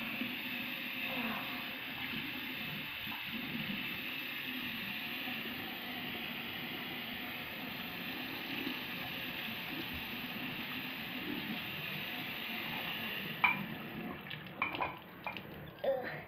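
Running water from a tap gushes steadily as hands are washed, a soft even hiss that continues for many seconds before a few clatters and splashes near the end.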